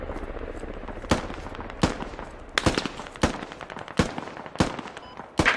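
Gunshots in the video game Squad ring out as single loud cracks in an irregular series, roughly one every half second to second, over a steady rumble of distant battle noise.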